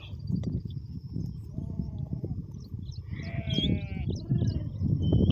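Sheep bleat in a grazing flock, several wavering calls rising at different distances over a constant rustle of movement and outdoor background.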